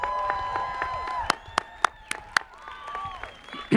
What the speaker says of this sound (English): can I have a round of applause for our wonderful student performers?